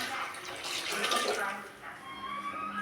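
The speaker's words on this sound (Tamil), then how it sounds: "புளி தண்ணியை ஊற்றியாச்சு." Tamarind water poured into a simmering fish curry in a pot, a continuous close splashing pour that swells and then tapers off, moderately quiet.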